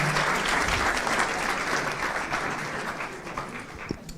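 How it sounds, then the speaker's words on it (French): Audience applause greets a Lyon student team at an Epitech pitch event, a steady dense wash of many hands clapping, fairly close and filling the space, thinning slightly toward the end. "On peut vous applaudir."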